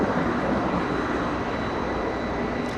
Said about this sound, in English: Aeromexico heading over to the 25s for takeoff.